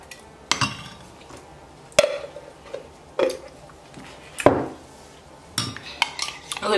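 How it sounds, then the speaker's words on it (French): A spoon stirs a tablespoon of honey into coffee in a cup, giving sharp, irregular metallic clinks against the rim and base, six or so distinct taps with quiet scraping between them, close by. "je vais rajouter une cuillère à soupe de miel et je vais remuer le tout"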